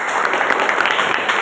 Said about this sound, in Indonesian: marilah kita apresiasi dulu, kita tepuk tangan.